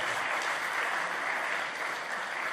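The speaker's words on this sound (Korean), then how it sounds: "큰 박수 주시기 바랍니다" A church assembly audience claps together in steady, dense applause filling the room, moderately loud and continuous without talk.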